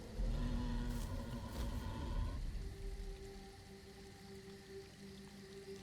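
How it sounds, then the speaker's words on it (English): Steady rain hiss in Elder Scrolls Online with a low rumble, loud at first and then easing to a softer patter over a faint sustained tone. "And it's raining."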